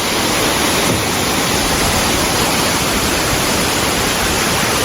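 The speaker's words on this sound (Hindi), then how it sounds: "कितने बड़े बड़े झरने हैं।" A steady, loud roar of rushing water fills the air without pause, like a large mountain waterfall pouring down nearby on the Baltal route of the Amarnath Yatra in Kashmir.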